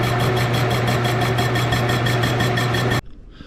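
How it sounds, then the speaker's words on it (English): Machine whir of a lathe spinning a chucked part for polishing, a loud steady hum with a fast regular pulsing that cuts off abruptly near the end, leaving quiet handling noise. "we're gonna go ahead and chuck it up in the lathe, and then we're gonna start polishing her down"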